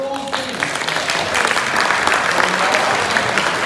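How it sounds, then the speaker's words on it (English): A comic con audience at a Plymouth talk gives a steady round of applause, dense and loud from start to finish, with a few voices faintly mixed into the clapping. "But can one more round of applause, please?"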